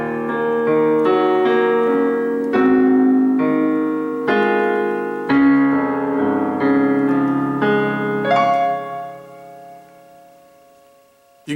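Solo piano plays the final part of a song from Over The Garden Wall up to speed, a flowing run of chords and melody notes that slows and fades into a soft ringing ending.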